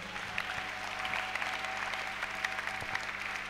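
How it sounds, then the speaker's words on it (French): A church congregation applauds during a French-language sermon, a steady, dense patter of clapping that runs evenly throughout, fairly soft and with no voices over it. "Acclamons le Seigneur."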